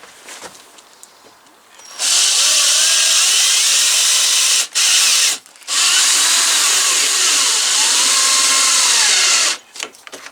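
Power drill driving a self-tapping screw into metal and cutting out an old rivet, a loud high whine in three long runs split by brief pauses.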